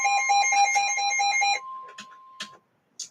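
Severe thunderstorm warning alert tone: a loud, steady series of rapid electronic beeps lasting about a second and a half, followed by a lingering single tone and a few short, fainter clicks and taps.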